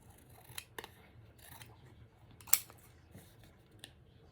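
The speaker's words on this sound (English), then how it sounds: "We're going to cut this out and just make a nice little straight line." Scissors snip through a greeting card to trim a handmade paper gift tag into a straight line, giving a few quiet, close cuts and sharp clicks spaced out over a hushed background.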